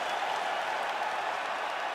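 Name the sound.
crowd cheering and applauding in UFC 5 video game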